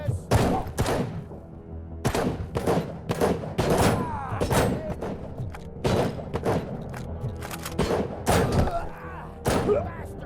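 Gunfire rings out during a prison attack in the RoboCop Rogue City video game: loud, close shots fired in rapid, irregular bursts across the whole stretch, with heavy thuds between volleys.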